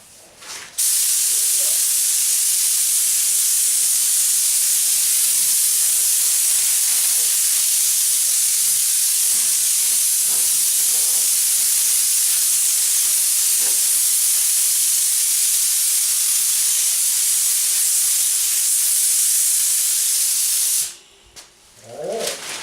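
Spray gun at about 20 psi spraying primer onto the firewall of a 1977 Camaro Z28, a steady loud hiss lasting about twenty seconds, with brief quiet moments before and after.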